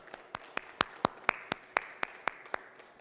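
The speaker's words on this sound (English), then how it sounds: "Let's give Sharif another round of applause" About a dozen separate, evenly spaced claps ring out after a conference talk at the SCaLE tech conference, sounding sparse and fairly quiet, like just a few people in the room clapping rather than a full crowd.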